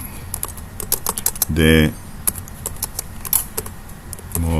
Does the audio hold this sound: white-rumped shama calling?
no